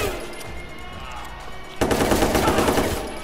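Gunfire in Watch Dogs 2 erupts abruptly midway as a loud, rapid burst of close shots over ongoing game background noise.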